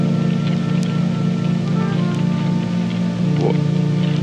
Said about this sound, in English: It's still raining. Why is it still raining?